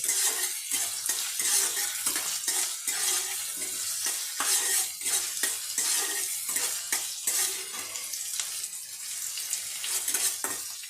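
Onion, garlic and green chili sizzle in a pan while a spoon stirs them, making repeated scraping strokes in a steady rhythm, close and with no talk.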